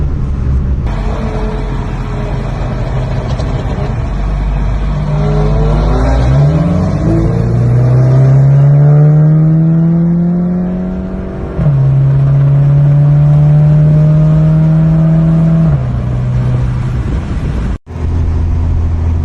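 A Stage 2 Audi RS7 and a Ford Taurus SHO race side by side, loud engines roaring and climbing steadily in pitch, with a brief gear-change dip midway before the revs rise again. No talking.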